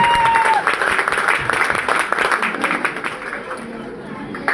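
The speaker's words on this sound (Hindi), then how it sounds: "जोरदार तालियां।" Audience members at a Modicare program in Moradabad break into strong applause. The clapping is busy and close at first, with some chatter mixed in, and slowly tapers off.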